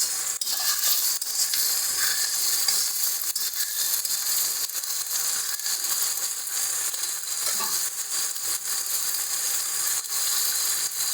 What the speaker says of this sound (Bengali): পেঁয়াজটাকে হালকা একটু নাড়াচাড়া করে তারপরে ওগুলো দিচ্ছি।